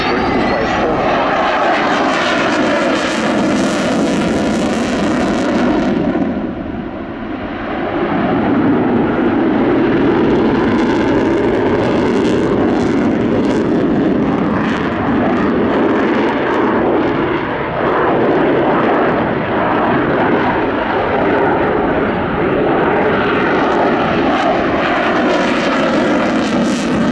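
A Sukhoi Su-27 Flanker heavy jet fighter flies a sunset air display, its loud roaring engine noise sweeping past and swelling and fading as it manoeuvres, with a brief dip before the roar builds again.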